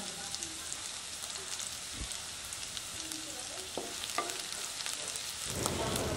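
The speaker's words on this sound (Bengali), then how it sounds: "আমাদের পেঁয়াজগুলো ভাজা হয়ে গেছে।" Onions sizzle in a pan while being fried for a mustard-poppy chicken curry, a steady close crackling hiss with occasional light clinks and stirring sounds.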